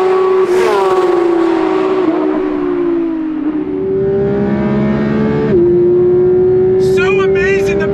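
A 2023 Porsche 911 GT3 RS at speed on a race track, its engine note steady and loud, with brief rises and dips as the car transitions through corners, heard close with talk over it.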